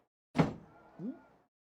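A door slams with a loud thump during a middle school football broadcast, followed about half a second later by a shorter rattling knock as it settles.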